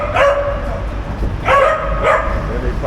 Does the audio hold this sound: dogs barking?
yes